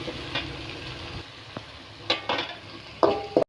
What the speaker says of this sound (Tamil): தக்காளி வெங்காயமும் வந்து ஓரளவு வதங்கிடுச்சு